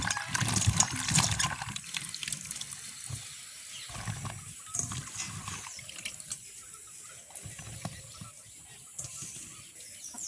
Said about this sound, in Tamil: நாங்கள் பட்டி வச்சுக்கிற கத்திரிக்காயை கழுவி எடுப்போம்